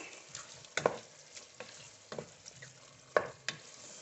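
Mixed vegetables stirred in a frying pan, a quiet background sizzle broken by several sharp scrapes and knocks of a spoon against the pan at irregular intervals.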